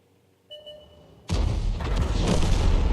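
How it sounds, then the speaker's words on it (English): A video-game M103 tank blows up after its ammo rack is hit: a sudden loud, full-bodied blast that keeps roaring and rumbling afterward, preceded by faint tonal game beeps. "Oh, the M103 just exploded."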